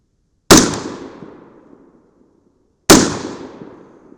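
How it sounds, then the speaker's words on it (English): Two loud gunshots fired at a target on an outdoor shooting range, about two and a half seconds apart, each a sharp crack followed by a long decaying echo. "We'll put 2 bonus shots on the center."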